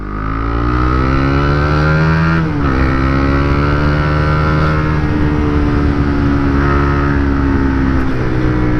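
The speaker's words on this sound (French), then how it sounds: "J'aime bien le son. C'est plus bruyant que le d'origine." A Honda CB125R motorcycle fitted with a new aftermarket exhaust revs loud and close, its engine note swelling and falling through several throttle blips with a brief dip partway through.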